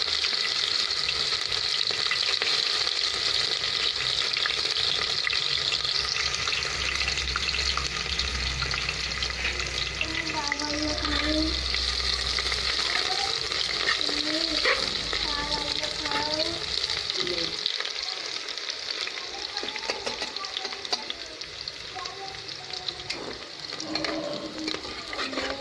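Onions frying in a pan for tahari, with a dense, continuous sizzle and frequent stirring scrapes, close and loud throughout, while faint voices come and go in the background.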